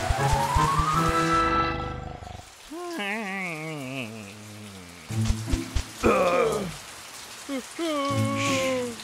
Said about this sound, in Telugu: వర్షం చాలా వేగంగా పడుతుంది.